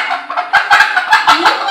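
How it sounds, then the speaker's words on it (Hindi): A hen clucks in a quick, uneven series of short, close calls, each note sharp and nasal, running continuously with no talk over it. "तो यहाँ पे एक है मुर्गी"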